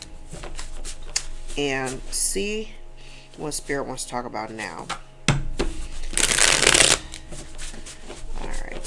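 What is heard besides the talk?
shuffling a deck of tarot cards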